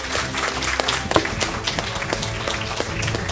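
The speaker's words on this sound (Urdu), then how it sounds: "یہ پلیز اس پہ تو تالیاں بجا دیں ان لوگوں کے لیے" Scattered clapping from a youth audience at a political talk, uneven with a few sharper claps standing out, accompanied by faint background hum and murmur.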